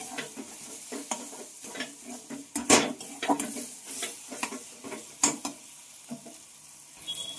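Pointed gourd (potol) curry sautéing in a pan, a close sizzle broken by repeated sharp scrapes and clinks of a spatula stirring against the metal.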